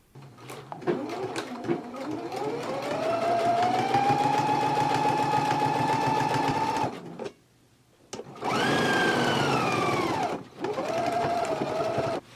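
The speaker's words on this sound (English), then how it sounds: "now we can go to the machine and we can stitch it right along this basting stitch now" A sewing machine runs fast along a basting stitch on a jacket seam, a close whirring hum in two long runs separated by brief pauses, with a final short burst.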